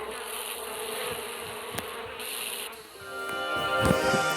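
Dense, steady buzzing of many paper wasps close by at their nest, a continuous insect drone with brief clicks and bumps, no voices.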